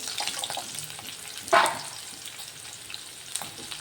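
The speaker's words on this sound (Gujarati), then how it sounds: "આ બધું લઈને હલાવી લઈશું." Dried chillies, green chilli and bay leaf stirred in hot oil for a paneer curry, a gentle frying sizzle with one louder scrape of the spoon midway and faint clinks, heard close without speech.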